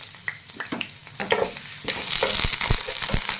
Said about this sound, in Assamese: ইয়াতে এতিয়া মই পিঁয়াজ ঢালিছোঁ।